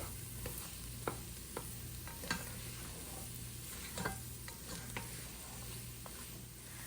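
Asparagus and other soup vegetables sizzle softly in a pan, a steady low hiss broken by scattered clicks and scrapes from stirring, heard close and fairly quiet with no talking.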